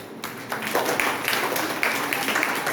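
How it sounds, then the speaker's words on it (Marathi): An audience claps together at a parenting workshop at HAP International School in Chhatrapati Sambhajinagar. The applause is a steady, dense patter of many hands that swells slightly and holds for a few seconds. "टाळ्या वाजवा"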